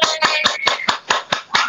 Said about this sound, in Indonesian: Tepuk tangan adik-adik semuanya.